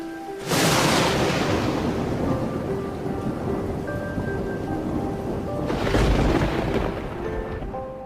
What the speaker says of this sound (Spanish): Un fuerte estruendo se escuchó en el cielo.